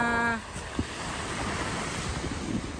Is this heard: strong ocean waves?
yes